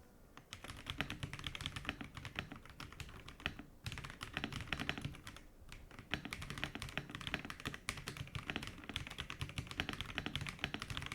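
Rapid, continuous clacking of keys on a cheap $30 mechanical keyboard, close up, with a couple of brief pauses between bursts of typing.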